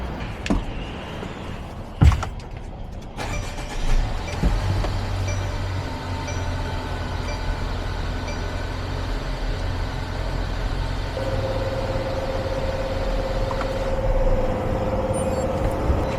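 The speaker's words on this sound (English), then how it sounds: "we'll go ahead and start the engine" A Mercedes Sprinter van's 2.0L OM274 gas engine, just back from an oil and filter change, idles steadily with a low mechanical hum, a few sharp clicks near the start and a faint whine joining later.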